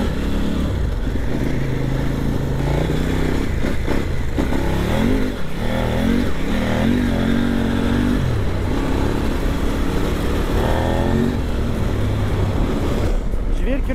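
A KOVE 800 Adventure motorcycle rides along a gravel road, its engine note rising and falling steadily under heavy wind rush throughout.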